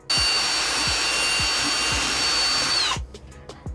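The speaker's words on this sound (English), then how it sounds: "So I got a drill with a Scotch-Brite pad thing." A cordless drill spins a Scotch-Brite pad against bare metal inside an AE86 car, a loud steady whine with a high tone and rhythmic scuffing thumps, cutting off near the end to leave a few faint knocks.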